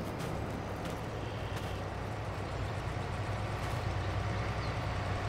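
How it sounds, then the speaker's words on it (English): A vehicle engine approaches on a farm in the Lake District, a steady low rumble that holds loud and constant throughout, with no voices over it. "I can hear an engine."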